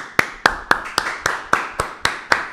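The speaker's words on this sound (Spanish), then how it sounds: "un aplauso para Zion." Clapping after encouragement for a young man who got up after a fall, heard as about ten sharp, evenly spaced claps, fairly close and clear, with no talk over them.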